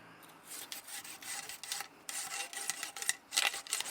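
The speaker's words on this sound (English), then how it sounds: "this time I'm going to go through it with the phosphor bronze" A phosphor bronze bore brush scrubs through a shotgun barrel to remove plastic and lead fouling, giving a close, bristly rasping rub in repeated strokes with short pauses between passes.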